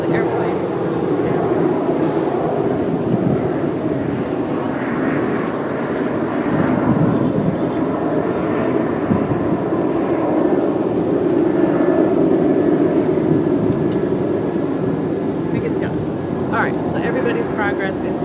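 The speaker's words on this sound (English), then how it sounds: "sorry, there's an airplane." Steady airplane rumble passing overhead, a broad continuous roar holding at even loudness throughout with no talking.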